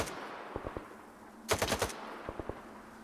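Gunfire in a video game: a few single shots early on, then a loud close burst of rapid automatic fire around the middle, followed by more spaced single shots, all over a low steady background hum.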